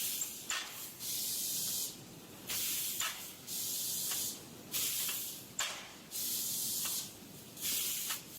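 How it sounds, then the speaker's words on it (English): A pneumatic air tool blasts dust and metal debris off a CNC laser cutting bed in short hissing bursts, about eight sprays of roughly a second each separated by brief pauses. "Pneumatic tool cleans the CNC laser bed by dislodging dust and metal debris"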